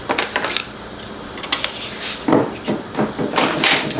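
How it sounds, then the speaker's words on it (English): A screwdriver prying a Festool router table insert loose, with several short scraping and clicking knocks of metal and plastic close up, irregular and moderately loud. "I'm going to have to use a screwdriver."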